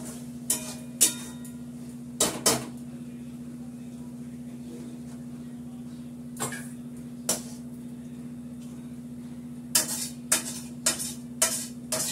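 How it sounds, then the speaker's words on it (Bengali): A pot of prawn curry is lifted off the stove, giving a handful of sharp metallic clanks and knocks over a steady low hum from the cooker. "এবার আমি চিংড়ি মাছের রসাটা নামিয়ে নেব।"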